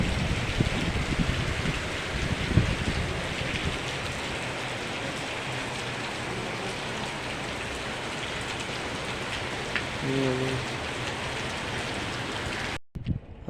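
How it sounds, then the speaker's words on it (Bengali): Heavy rain pours down steadily in a dense, loud, continuous hiss of drops striking surfaces nearby, unbroken for the whole stretch, with a brief low rumble midway and no voices. "খুব জোরে বৃষ্টি হচ্ছে।"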